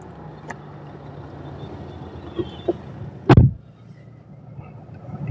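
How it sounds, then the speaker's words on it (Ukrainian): A 2010 Renault Fluence with a 1.5 dCi diesel engine cranks and fires in one short, loud burst heard from inside the cabin, then settles into a low, quiet idle after a few faint clicks. "Так, Заведемо мотор, щоб можна було повернути кермо."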